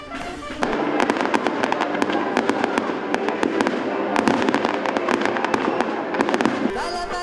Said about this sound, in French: et bien entendu feux d'artifice